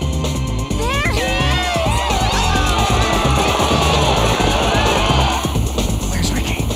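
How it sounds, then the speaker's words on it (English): A restless cartoon crowd cheers and shouts in a Totally Spies! episode. Whoops, whistles and yells rise from a thick, continuous roar of voices that carries on without a pause. "This crowd is ready to start a riot."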